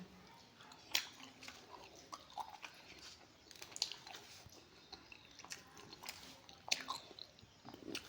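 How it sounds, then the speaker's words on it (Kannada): Faint close-up chewing and crunchy bites while eating pundi palya, a sorrel leaf curry, with soft mouth sounds scattered through a quiet room. "ಮೊದಲು ಬರೀ ಇದು ಪುಂಡಿ ಪಲ್ಯ ತಿನ್ನೋಣ"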